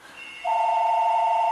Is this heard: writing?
no